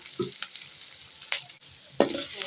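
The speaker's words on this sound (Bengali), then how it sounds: "পেস্টটা আমি ভালোভাবে ভেজে নেব" Spice paste sizzles in hot oil in a pan, a soft crackle broken by a few quick scraping stirs, close and fairly quiet.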